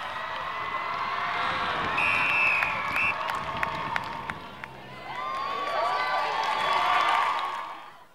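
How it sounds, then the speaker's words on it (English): A crowd at a women's rugby match applauds and cheers from the sidelines, a moderate, spread-out wash of clapping and shouts that swells twice, with whistles and voices mixed in. "The enthusiastic crowd gave resounding applaud for Oxford's number 6, Elizabeth, as she left the field"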